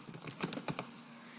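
Quick bursts of clicky keystrokes on a computer keyboard while a YouTube video description is edited, the taps clustered in an irregular run over the first second, then trailing off into quiet room tone.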